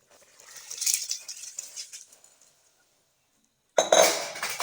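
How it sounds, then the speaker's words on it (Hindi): Soaked rice tipped into a pot of boiling water for a Pakistani mixed vegetable pulao, giving a clattery pour with pot and utensil clinks, followed by a short silence and a sharper, louder burst of clinking against the pot. "हमने 2 गिलास चावल भिगो के रखे थे, वो हम अब ऐड करते हैं।"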